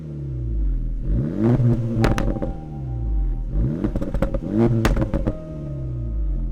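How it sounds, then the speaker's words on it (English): Honda-built Acura Integra Type S engine and exhaust revving up twice in quick succession, rising and falling with a rough, raspy note over a constant low idle drone, close and alone without speech. "I love the engine and the sound of the exhaust."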